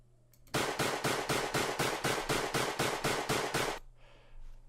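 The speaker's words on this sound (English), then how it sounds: "I wanted to create automation gun sound" Rapid burst of a dozen or so evenly spaced shotgun-style blasts for a first-person shooter, built in FMOD as an automated shot-by-shot sequence, loud and close, followed by a faint tail.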